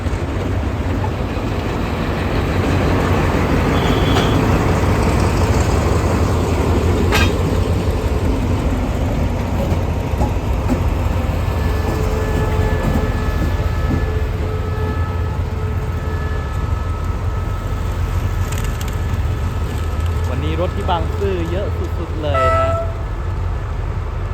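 An Alsthom diesel locomotive running along a railway line back to the depot with its train, a continuous loud engine rumble with a short horn toot and a later horn sound, while someone talks over it.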